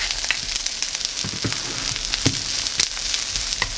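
Chopped square pieces of tempeh frying in a hot pan, a loud continuous sizzle with crackling pops and occasional scrapes as they are pressed flat, close by and without talking.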